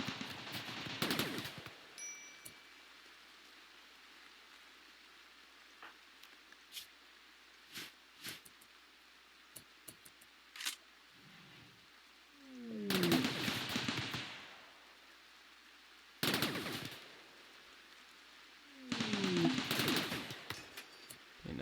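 Turrets fire in the colony game RimWorld in short bursts of rapid gunfire, spaced several seconds apart over a quiet background, with no talk.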